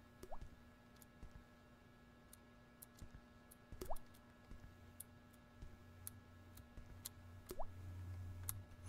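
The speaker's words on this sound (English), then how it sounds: "Hear water dripping," Sparse water drips inside The Backrooms Survival indie horror game, a few soft isolated plinks at irregular intervals over a low steady ambient hum, faint and somewhat distant.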